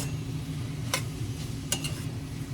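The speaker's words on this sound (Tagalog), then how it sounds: "Ginigisa ko muna dito sa may, luya tsaka sibuyas." Ginger and onion sautéing in a pan: a steady soft sizzle underlies two or three sharp scraping stirs of the utensil against the pan, close and moderate in level, with no speech.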